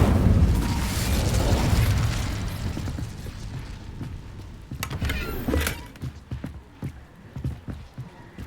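The Incendio fire spell is cast in the Hogwarts video game, a loud whooshing burst of flame at the start that fades, followed by scattered thuds and pops of in-game action.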